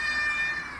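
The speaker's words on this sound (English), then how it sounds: "That's my cat." A pet cat gives one drawn-out, tonal meow close to the listener, steady and clear, fading slightly at the end.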